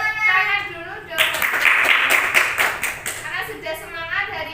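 A class of students claps hands together in a spirited, rhythmic cheer clap during a grade 10 Islamic religious education lesson. Brisk claps fill the middle of the clip, and a voice talks before and after them.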